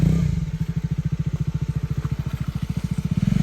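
A motorcycle engine labors up a rough hill road to a viewpoint, its close, steady rapid thumping firing pulses rattling over bumpy ground without pause.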